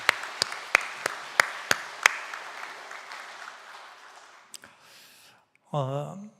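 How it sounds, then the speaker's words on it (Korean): Church congregation giving a brief round of applause, starting with a handful of separate sharp claps that thin into a soft patter and fade, followed by a short burst of speech at the end. "우리 따뜻한 박수를 한번 보냈으면 좋겠습니다"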